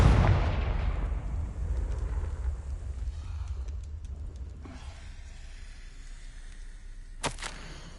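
A Confringo fire-blast spell explodes in the Hogwarts Legacy video game: one loud, booming burst at the start that rumbles and fades over several seconds, with a short sharp crackle near the end.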